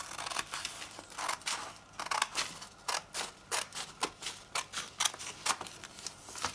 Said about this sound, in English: So I'm going to cut it in the middle.